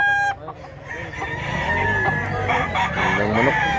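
A rooster stag crows in a Cebu yard, one long drawn-out cock-a-doodle-doo rising and stretching over several seconds, close and loud, after a short clucking start, with other fowl faintly around.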